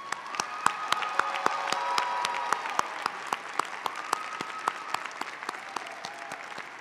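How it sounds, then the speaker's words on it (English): An audience at a December university commencement ceremony gives a sustained round of applause, a dense spread of clapping hands that holds fairly steady throughout, heard from some distance in a large hall. "And let's give those people a round of applause."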